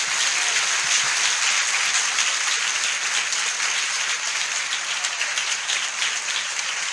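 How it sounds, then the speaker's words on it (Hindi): Sustained audience applause at a Christian worship gathering, a dense, steady wash of many hands clapping together for the full length without breaks, loud and close, with no voices standing out. "क्या हम यीशु के लिए एक ताली बजा सकते हैं?"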